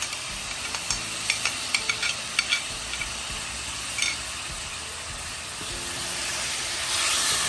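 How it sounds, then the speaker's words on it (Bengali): Gobindobhog rice, spices and potato fry together in a pan with a continuous hissing sizzle and light spatula clicks early on, the hiss swelling louder toward the end. "চাল, মশলা, আলু সব একসাথে দিয়ে ভালো করে কষিয়ে নিচ্ছে।"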